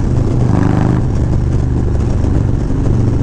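Harley-Davidson Low Rider ST with a stage 2 setup and Cyclerama 483 cam, running loud and close with a deep, throbbing, lumpy exhaust note that swells briefly before settling into a steady rumble.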